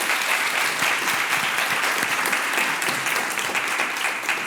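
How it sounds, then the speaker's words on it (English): Sustained audience applause for panelists at an advertising and marketing panel event, dense steady clapping from a room full of people throughout. "Another round of applause."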